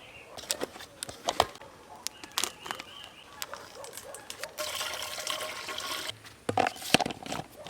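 Granular mineral fertilizer poured into a container of water and stirred, with splashy liquid swishing and scattered clinks and taps, followed by a stretch of steady rushing water and then more stirring sounds close by.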